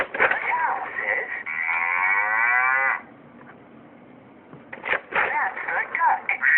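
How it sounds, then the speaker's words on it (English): A toy cow gives a long, drawn-out electronic moo, followed by a pause and then more lowing sounds, fairly close and clear. "The cow says,"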